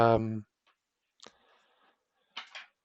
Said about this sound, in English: So riffle shuffles, because it is such thin cardstock, it's quite easy to riffle shuffle it.